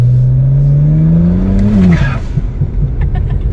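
A stage 2 plus tuned BMW accelerates hard, its loud engine note rising steadily before the gear lets off, followed by a flurry of sharp exhaust pops and crackles close by, with no talking.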